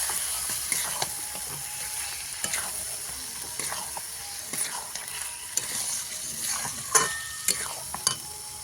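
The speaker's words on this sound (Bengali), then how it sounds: "তো আমি এখন এটা কষে নিলাম, কষে নেব।" Mutton sautéed with spices sizzles softly in a pan while a utensil scrapes and clinks against the metal in irregular strokes, all fairly quiet and close.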